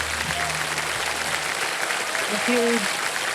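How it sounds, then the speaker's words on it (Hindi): A studio audience applauds on the KBC quiz show, dense clapping throughout, with a voice speaking briefly at the start and tonal music stings rising over it near the end. "तालियां बज जाए उनके लिए।"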